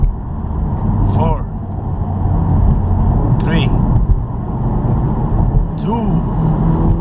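The engine of a 2019 Honda Civic Type R rumbles steadily as it downshifts through the gears, with three brief rev blips spaced a couple of seconds apart, close up, while someone talks over it.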